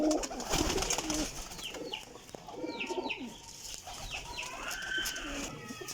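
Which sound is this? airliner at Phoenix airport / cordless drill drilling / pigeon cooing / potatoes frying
pigeon cooing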